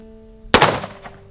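A Bearman derringer fires a single black powder .38 Special round, one sharp, loud crack with a short rumbling tail, preceded by quiet room tone.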